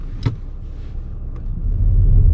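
Keyless entry car driving at about 40 km/h, a steady low road rumble and engine drone that swells slightly louder toward the end, with a brief click near the start.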